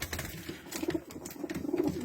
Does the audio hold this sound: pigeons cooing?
yes